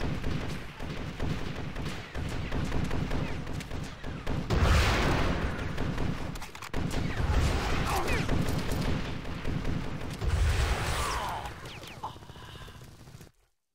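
Continuous video game gunfire from the game AW2, with dense rapid shots and heavy bursts layered into a loud, steady barrage that cuts off abruptly at the end.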